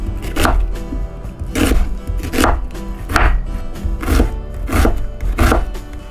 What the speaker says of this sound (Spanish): Ya por último vamos a cortar la cebolla. Vamos a cortarlo en trocitos pequeños.